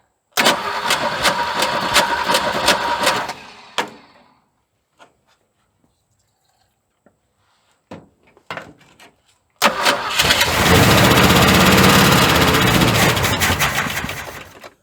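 Small gasoline engine with a faulty carburetor fires up after a shot of gas poured into the carb, running loud and close for a few seconds, dying away, sputtering briefly, then catching again and roaring steadily.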